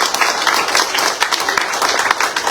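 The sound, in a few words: congregation clapping hands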